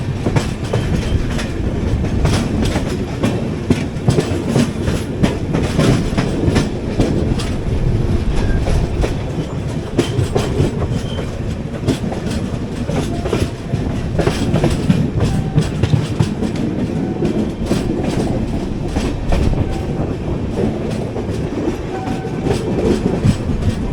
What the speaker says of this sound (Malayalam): നമ്മൾ ജസ്റ്റ് ആവടി സ്റ്റേഷനിൽ നിന്ന് ഇറങ്ങി മെയിൻ ലൈനിലോട്ട് കയറുന്നു.